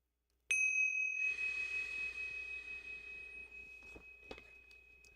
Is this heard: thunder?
no